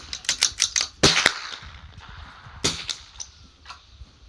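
Sharp report from a Vudoo V22 .22LR rifle at an outdoor benchrest range, with several quick clicks of bolt handling before it and one more distant crack from another rifle a moment later.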